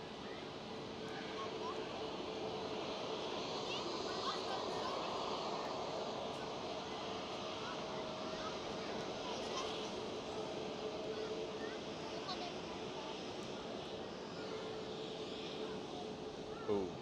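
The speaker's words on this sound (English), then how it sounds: "Air Europe 787." An Air Europa Boeing 787 airliner at Amsterdam Schiphol produces a continuous broad jet rumble, fairly loud and level across the whole stretch, ending with a brief bump.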